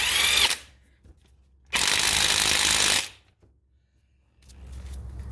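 Power tool or ratchet driving a crank pulley bolt back into a Honda Civic engine, heard in two loud, steady bursts of about half a second and then over a second, separated by quiet, with a softer whir starting at the end.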